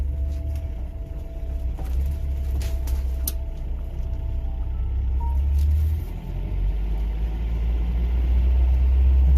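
A 1985 Toyota on the road, with a steady low engine and road rumble filling the cabin throughout and a few faint clicks and rattles over it.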